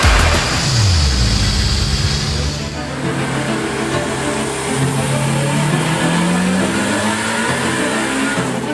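A turbocharged Acura RSX engine revs hard and loud, its pitch climbing and falling through repeated sweeps, with the throttle blipped up and down continuously and no talking.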